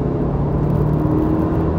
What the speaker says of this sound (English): This is it when I floor the car.